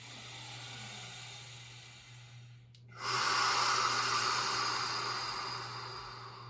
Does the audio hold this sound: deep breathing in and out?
yes